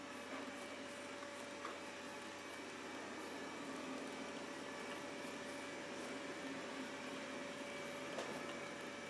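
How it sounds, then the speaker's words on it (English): A vacuum cleaner runs continuously in a room nearby, a faint, steady motor drone with a thin whine that holds evenly throughout without pause. "That's all I can hear is the vacuum cleaner right now."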